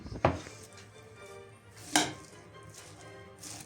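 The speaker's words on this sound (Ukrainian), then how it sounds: "тепер додаємо нашу зелень і перемішуємо" Chopped greens being stirred into a Chinese cabbage salad with sausage, corn and grated cheese in a bowl, with two distinct utensil knocks against the dish amid soft rustling, close and fairly quiet.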